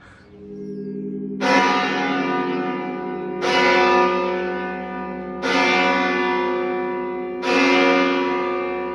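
Church bells in a bell tower strike the hour, four loud, evenly spaced clangs about two seconds apart, each ringing on with a long, reverberant decay over a low hum.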